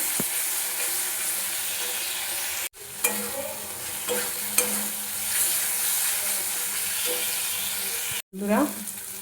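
Spice masala with a little sugar sautéing in oil on a low flame for ghugni, giving a steady close sizzle with occasional spatula scrapes and stirs. Two brief breaks interrupt the sound.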